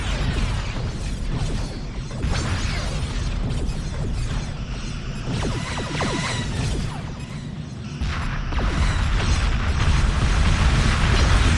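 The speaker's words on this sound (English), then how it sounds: "we'll just have these ships go till they explode" Starship explosions from the Star Trek: Continuum Remastered game mod roar continuously, with dense booms, bursts and whooshing blasts layered loudly throughout and swelling heavier near the end.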